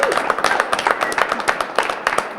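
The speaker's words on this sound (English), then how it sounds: "let's give ourselves a big round of applause" Studio audience at a horseshoeing show clapping, loud and close, with sharp individual claps in an uneven, lively rhythm rather than a smooth wash.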